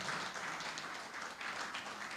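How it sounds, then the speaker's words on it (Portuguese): Church congregation applauding together, a steady dense wash of many hands clapping throughout, moderately distant and fairly quiet, with no voices over it. "cadê a salva de palmas ao Senhor que nos ensina a viver corretamente"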